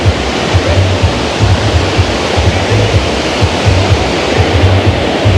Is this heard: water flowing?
yes